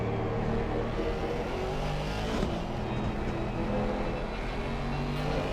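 An Aston Martin GT race car engine in a racing video game, on the Nürburgring, drones steadily and loudly throughout, with a smooth, sustained whir and no voices.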